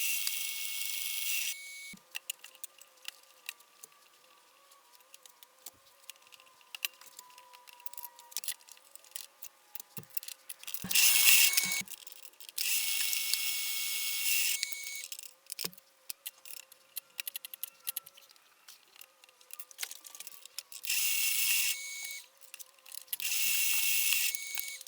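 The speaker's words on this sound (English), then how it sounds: "So the first thing I'll do is I'll get the inlets drilled and tapped." Machining work on a homemade hydraulic gear pump as the inlets are drilled and tapped, heard as intermittent high-pitched drill whine in bursts with clicks, taps and handling knocks between, fairly close with no talk.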